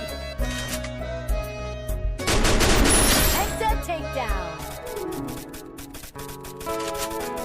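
Automatic and burst gunfire from the Free Fire battle-royale mobile game, loud volleys and rapid shots clustering in the middle, laid over a steady game music bed with background voices.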